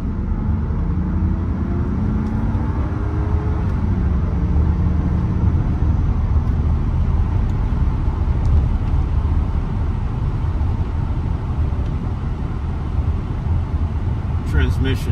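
A 2000 Mercedes-Benz SL600 accelerates smoothly, its engine a steady loud low drone with rising tones early on, heard from inside the car while someone talks over it.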